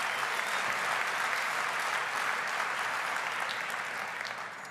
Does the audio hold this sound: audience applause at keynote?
yes